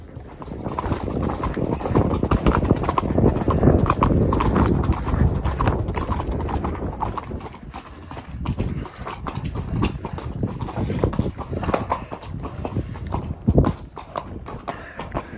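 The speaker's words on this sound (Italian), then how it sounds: "Qua dovrebbe esserci la dimostrazione con i cavalli norici che trainano le piante di abete, larici," Noric horses clip-clopping while pulling felled fir and larch trees at a rural demonstration in Trentino's Primiero area, hoof strikes loud and close in an irregular rhythm, with some faint outdoor background noise.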